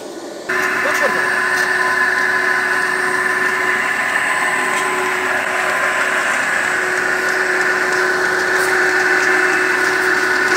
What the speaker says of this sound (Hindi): ये डीजल इंजन भी साथ लगा हुआ है।